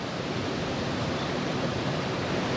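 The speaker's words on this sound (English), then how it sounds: "There's some of the waterfall, go down there." The Danska Fallen waterfall in Sweden gives a steady, close rushing roar of falling water, a dense even hiss with no pauses and no voices.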